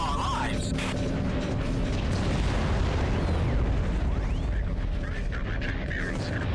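Explosions ring out in the underwater game AquaNox as a dense, continuous roar of booms and bursts, loud throughout with sweeping tones layered over the blasts; no one speaks.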